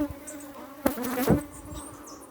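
Honey bees buzz steadily around a lifted brood frame at a hive while drone cells are being inspected for varroa, a continuous close insect drone with two brief louder bursts partway through.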